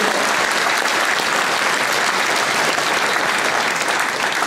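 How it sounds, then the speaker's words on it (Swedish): Big, sustained applause from a gala audience in Borås honouring local associations, thick uniform clapping holding at full strength throughout without any talk. "Ge dem en stor applåd, alla föreningar."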